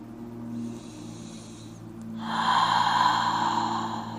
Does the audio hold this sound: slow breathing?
yes